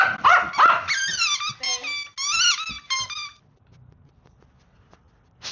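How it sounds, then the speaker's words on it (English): A dog barks and yips several times in quick, excited bursts close by while playing with a toy, then falls quiet with only faint room noise. "Dog Billy really loves this toy."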